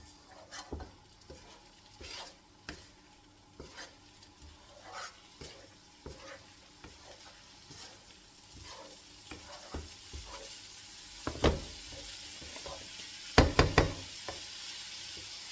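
Masoor lentils stir-fry in a pan for a bhuna, with a low sizzle under repeated spatula scrapes and knocks against the pan. Sharper clatters bunch up near the end, with no talking.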